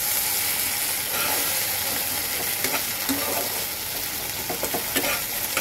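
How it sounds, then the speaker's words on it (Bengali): Spice paste for a spicy katla fish curry frying and being stirred in a pan, a steady close sizzle with scraping stirs and small spattering pops throughout, no voices. "আমি 2 থেকে 3 মিনিট আর একটু কষাবো।"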